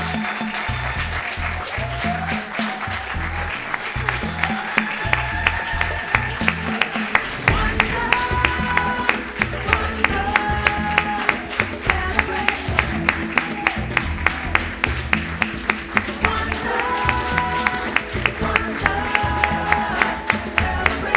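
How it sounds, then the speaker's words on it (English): Audience applause at the close of a stage performance, a dense sustained round of clapping held steady at full volume across the whole stretch, with rhythmic drumming and music continuing underneath. "Let's give them one more big round of applause."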